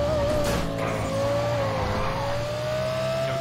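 A tuned car exhaust revs loud and steady in a racing video game, an LFA with a strong droning engine note held close throughout.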